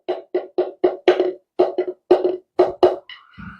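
Sharp, close taps on a Donner practice drum pad with the ball box removed, about a dozen hits in uneven rhythm, each short and woody, ending with a faint tonal scrape.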